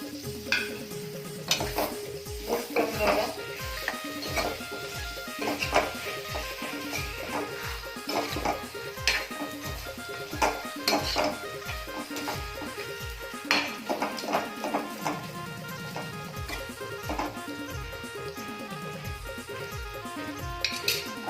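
Rani fish with raw karonda cooking in a pan for a curry, with quiet continuous sizzling and frequent clinks and scrapes of stirring against the pan, steady and close.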